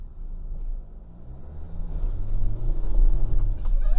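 A Changan Hunter pickup in four-wheel-drive low range climbs a steep slope, its engine a low rumbling drone that swells louder as it crawls upward, with no talking.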